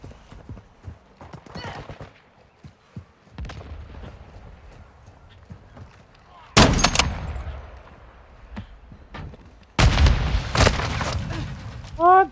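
Two loud, sharp sniper rifle shots ring out in a hardcore Modern Warfare 2 match, the Signal 50 firing once near the middle and again later, each blast with a lingering tail over quieter game ambience.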